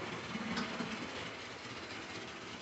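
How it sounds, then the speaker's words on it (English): A steady low rumble and clatter of OO gauge model trains running on track, continuous and fairly soft, with no talking. "Just trying to moderate the speeds of the trains here."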